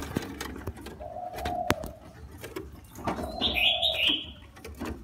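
A thin young spotted dove that had lost its feathers gives a few soft, hollow coos, close by in a quiet room, with a brighter chirp overlapping near the end.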